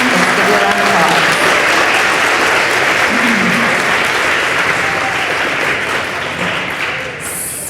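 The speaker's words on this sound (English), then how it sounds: "let's give you a round of applause" Loud, sustained applause from an audience celebrating graduating 8th graders at a school promotion ceremony, a dense continuous clapping that tapers slightly toward the end.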